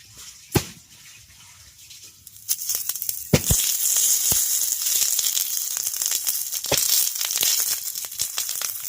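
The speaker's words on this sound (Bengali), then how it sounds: "তেল গরম হয়ে গেছে হ্যাঁ এবার এক একটা পাতুরি এর মধ্যে দিয়ে দেবো" Parcels of small pond fish paturi drop into hot oil in a wok, setting off a loud, dense, continuous sizzle with sharp clacks and pops after a quieter start.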